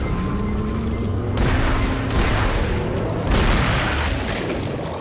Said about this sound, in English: Here I'll stasis a new enemy called the Puker, and then strategically dismember him by firing at the limbs